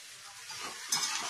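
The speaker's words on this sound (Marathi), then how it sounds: "आता परत आपण मधून मधून तिला अशी परतवून घ्यायची।" Okra bhaji being stirred and fried in a pan: steady sizzling with scraping stir strokes from a spatula, close and fairly quiet, growing a little louder near the end.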